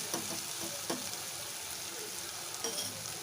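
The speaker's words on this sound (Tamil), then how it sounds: "இது நல்லா அது வதங்குது பாருங்கள்." Ingredients for mango rice sauté in a pan with a continuous close sizzle, punctuated by a few soft stirring scrapes, with no voices.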